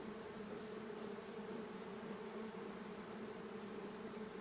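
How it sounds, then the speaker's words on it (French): Bees buzz in a dense, continuous drone across the countryside, a steady swarm hum with no pauses, moderately close and quiet. "l'abeille me rend jaloux de sa délectation"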